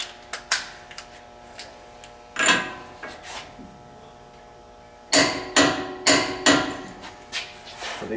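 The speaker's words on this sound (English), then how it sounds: "We're going to set our gun or wrench to 150." A torque gun or wrench tightens the lower ball joint on a 2013 Dodge Ram 3500, delivering sharp repeated metallic impacts in irregular clusters, close up and loud, with brief ringing decays between hits.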